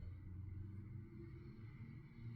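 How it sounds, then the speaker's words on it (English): Road traffic outside a building forms a low, steady rumble of passing cars, faint and distant, continuing evenly throughout with no talking. "Sorry if y'all can hear the traffic out there."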